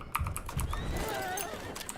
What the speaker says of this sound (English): Fucking horses, lad!